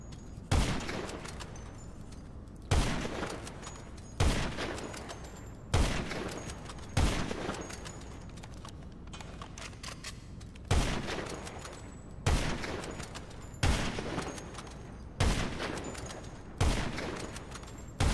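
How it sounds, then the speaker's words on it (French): A heavy sniper rifle in GTA Online fires about ten loud, sharp shots at a slow, fairly regular pace, each crack followed by a decaying echo. "comme si je prends le sniper lourd"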